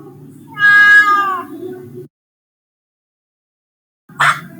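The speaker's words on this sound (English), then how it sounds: "Cat." A domestic cat gives one clear, loud, drawn-out meow, then falls silent before a short sound at the end, alone with no talk.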